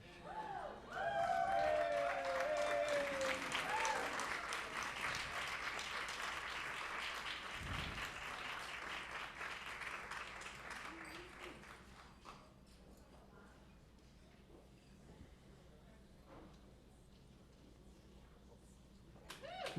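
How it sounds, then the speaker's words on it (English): Crowd applause at a SongSLAM 2022 show welcoming performers to the stage: loud, full clapping with a shrill whistle near the start, holding for about ten seconds before thinning and tapering off into a quiet room. "No one should come to the stage without a roar of applause"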